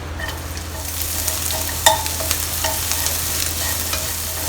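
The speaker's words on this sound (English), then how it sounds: "Next, we are going to fry the onions and the vegetables." Thinly sliced medium yellow onion frying in oil for yakisoba, a close steady sizzle broken by repeated sharp clicks and scrapes of a utensil stirring the pan, over a low constant hum, with no talking.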